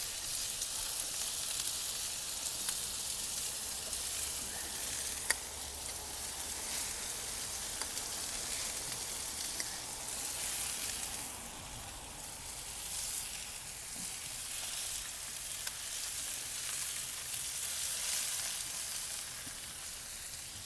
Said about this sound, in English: You can hear them sizzling in the cast iron.